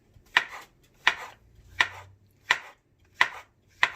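A knife cuts thin slices of portobello mushroom on a cutting board, six crisp, evenly spaced taps on the board at a steady, unhurried rhythm, close and distinct with no talking.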